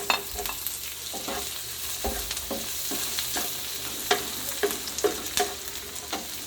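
Onions sizzle and hiss in a hot pan while being stirred for squid adobo with tomato and tofu, a steady frying crackle broken by repeated sharp scrapes of a utensil against the pan.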